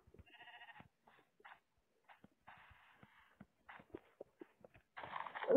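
Minecraft sheep bleating, short faint baa sounds amid sparse clicks and footsteps in the blocky game world, with a louder burst of noise at the end.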